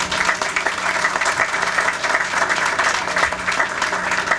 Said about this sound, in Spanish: Les hablo de Héctor Brands, para quien pido un fuerte aplauso.